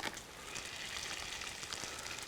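Whataburger breakfast sausage sizzles on a heated Blackstone griddle, a steady crackling hiss with small pops, close but fairly quiet, continuous throughout.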